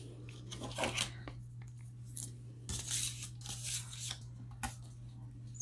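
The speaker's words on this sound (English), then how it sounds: "So I'm going to just use the double-sided tape" Double-sided tape being torn into strips for handmade craft tags, with several short ripping and crinkling bursts spaced irregularly, close and fairly quiet, with no talking.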